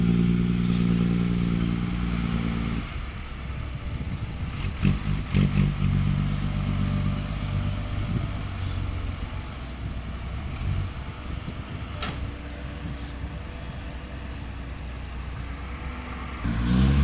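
A six-wheel truck's engine runs loudly close by at a muddy pit, with a steady low rumble, clattering, and a few revs rising over about seventeen seconds.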